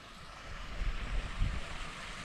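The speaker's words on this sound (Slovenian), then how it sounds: "Tak mini slapek." Small waterfall in a hidden canyon stream on the Ružički potok, a steady broadband rush of falling water with faint low rumbles, close and continuous with no voices.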